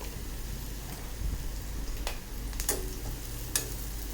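Chopped onion softening as it sautés in a pan, giving a faint, steady sizzle with a few soft scraping stirs scattered through.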